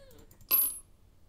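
A short burst of coins dropping in the video game Plug and Play: one bright, jingling clink that lasts about a quarter second, alone against a quiet background.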